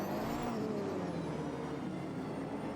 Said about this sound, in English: That flat 6 absolutely launching, screaming through the tunnel.